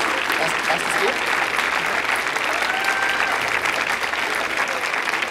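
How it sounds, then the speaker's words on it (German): Audience applause at a Science Slam for winner Kai Jäger: a dense, steady wash of clapping from a large crowd, holding at a loud, even level throughout, with faint voices or cheers mixed in. "Kai Jäger, bitte, das ist dein Applaus"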